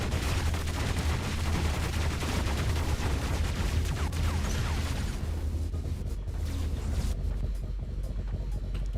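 Robot weapons in the War Robots game fire rapidly in a dense, continuous barrage of gunfire with a low rumble. It runs loud for several seconds, then the firing thins and the high end drops away near the end.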